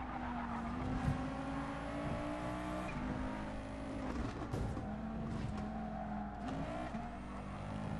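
Race cars, mostly Nissan GTRs, in a Gran Turismo Sport Group B rallycross event, their engines whining steadily with shifting pitch, with brief tire squeals and skids amid the pack, no talking.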